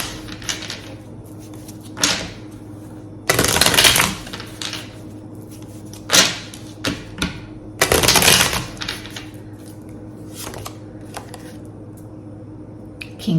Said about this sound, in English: I'll do a good hard shuffle